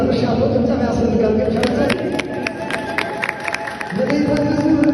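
A crowd at a church gathering claps in scattered, uneven bursts over a steady murmur of voices, with the clapping strongest mid-clip and tapering off near the end.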